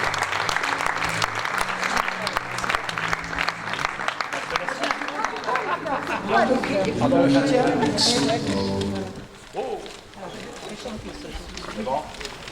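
Applause at a Rotary club dinner for volunteers, broad crowd clapping running under a speaking voice for most of the stretch, then fading before a brief pause and resuming more lightly.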